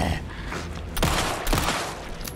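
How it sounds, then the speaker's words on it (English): Gunfire in Alan Wake 2: two sharp, loud shots about half a second apart over a dense, rumbling game background. "I think I just keep shooting him there."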